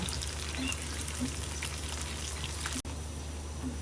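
Chicken lollipops fry in oil in a pan over medium-low heat, giving a steady, soft crackling sizzle with scattered pops and no voices.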